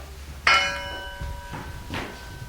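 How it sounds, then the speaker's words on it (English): A single bell rings out during a stage performance of Macbeth, one clear metallic strike that hangs and fades with a soft resonant tail, alone without any talk. "The bell invites me."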